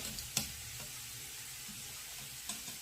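Quiet, steady sizzling of meat-filled dumplings (varenyky) frying in butter in a hot pan, with a few faint clinks and taps over the hiss.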